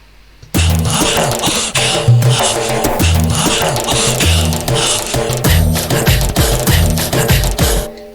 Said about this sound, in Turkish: Mesela Arap ritmi atalım buna